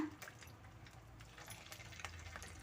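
Chicken kebabs dropped into hot oil over a medium flame, sputtering and crackling quietly as the moisture bursts, with scattered sharp pops over a soft, low bubbling bed.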